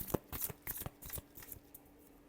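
A tarot deck is shuffled by hand up close: a quick series of crisp riffling and slapping card bursts that fades toward the end, with no voices.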